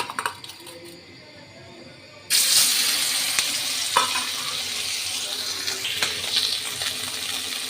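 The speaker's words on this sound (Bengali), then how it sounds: "এই মাছ এখন তেলের মধ্যে দিয়ে দিব।" Fish slid into hot oil in a wok: after a couple of quiet seconds, a sudden loud burst of sizzling starts and keeps crackling steadily, close by, with a few small clinks and no talking.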